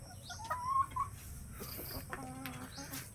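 Farm chickens feeding on fallen seeds cluck softly nearby, with a few sharper clucks early and scattered calls against quiet outdoor background.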